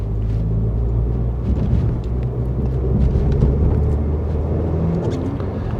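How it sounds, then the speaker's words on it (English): Constant low road rumble inside a moving Mk1 Audi TT quattro Sport, a steady drone of tyres and engine with no talking. "Road noise, I'm pleasantly surprised about."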